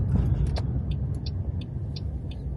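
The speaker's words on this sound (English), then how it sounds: "But my car's warming up nicely" A parked car's engine idles steadily while warming up on a cold, windy February day by the sea, a low continuous rumble close by with a few faint brief clicks and no talk.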